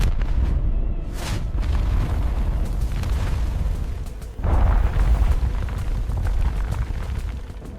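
A simulated nuclear blast wave hitting Washington D.C. comes as a deep, sustained roaring rumble, loud and close, with a brief dip before a second heavy surge of booming, crackling noise that rolls on without voices.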